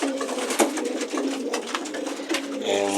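Pigeons in an open loft coo and rustle in a steady chorus of soft, throaty calls, close by and fairly loud, with no one talking.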